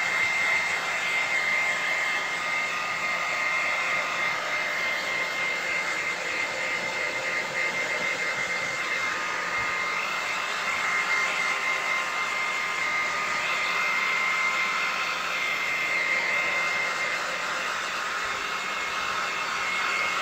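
A hair dryer dries freshly applied varnish on leather car seats, a steady, loud, unbroken whirring blow with a constant airy hum lasting about twenty seconds, no voices.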